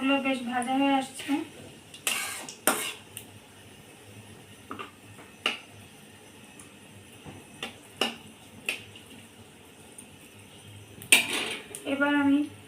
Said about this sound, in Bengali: আমার মশলাগুলো বেশ ভাজা হয়ে আসছে।